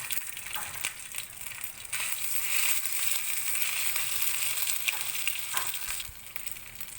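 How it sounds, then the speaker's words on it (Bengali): Whole spices and ginger paste fry in oil for a bottle gourd curry, giving a steady close sizzle and crackle broken by a few scrapes of stirring. "ফোড়নটা দিয়ে আমি একটু ভালো করে নেড়ে, আমার ফোড়নটা ভাজা হয়ে গেছে। এবার এর মধ্যে আমি আদা বাটাটা দিয়ে দেব।"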